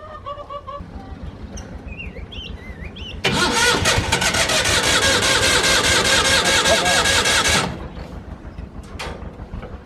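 An engine with its choke preset cranks and catches partway through, then runs at a loud, steady mid-pitched roar for several seconds before dropping back, with some quieter mechanical noise before and after.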